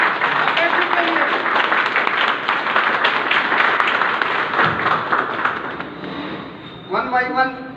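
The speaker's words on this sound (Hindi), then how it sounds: "सभी लोग जोरदार तालियां" Loud, dense clapping from an audience at a Dhanvantari programme in a hotel hall in Bachhrawan, Raebareli, running for several seconds alongside voices, then fading as a brief vocal sound rises at the end.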